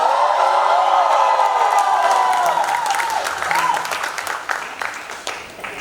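A studio audience at a TV comedy show bursts into loud applause and cheering with whoops, the clapping thinning out over about six seconds.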